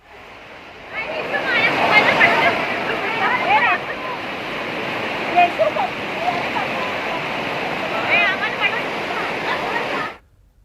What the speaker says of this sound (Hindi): नाले के 2 फीट ऊपर तक से पानी बह रहा है